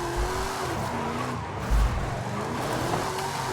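A 2010 Ford Crown Victoria Police Interceptor drifting in a racing video game, its engine droning steadily while the tires squeal in a long sustained screech as the car slides sideways.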